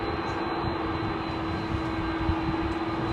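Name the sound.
Iberia Airbus A330 jet departing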